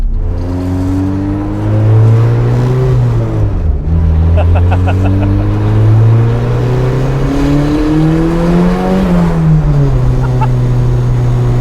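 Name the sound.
turbo Honda K-series engine in '66 Mustang driving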